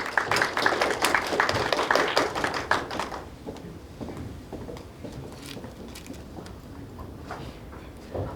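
Audience applause welcoming a presenter to the stage at a startup event: a burst of fairly close clapping for about three seconds, then it drops to faint scattered claps and room murmur.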